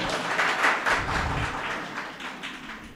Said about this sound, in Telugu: ఓకే, సూపర్, చప్పట్లు.